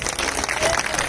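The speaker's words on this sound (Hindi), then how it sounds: "अपने लिए ताली बजा दो सर।" Brief burst of audience clapping at a live Haryanvi stage show in Narnaul, a dense, steady patter of many hands throughout.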